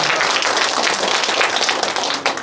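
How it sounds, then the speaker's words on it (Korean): An audience in a cultural center hall applauds after a humanities lecture, with loud, dense, continuous clapping sustained for a couple of seconds before tapering slightly. "김갑동 교수님께 다시 한번 큰 박수 부탁드립니다"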